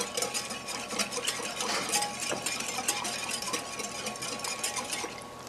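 Steady metallic whisking of salt water in a bowl, a quick continuous scraping rhythm close by, with no voices.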